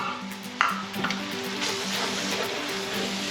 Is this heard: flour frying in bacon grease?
yes